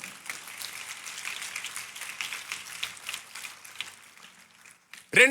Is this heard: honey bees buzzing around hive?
no